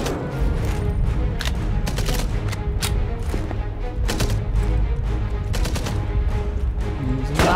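Gunfire from a gun in the World War II shooter game Enemy Front: a steady barrage of sharp, loud shots with irregular spacing over a dense, constant battle din.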